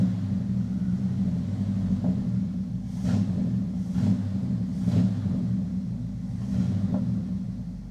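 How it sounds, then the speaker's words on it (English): A car engine idles with a low rumble, then is revved in several rising pulses before settling back, heard close and loud. "I'll give it a rev"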